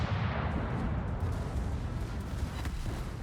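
Gunfire from an artillery-style weapon in a video game, a dense, booming burst of shots and rumble filling the whole short stretch at steady loudness, with no talk over it.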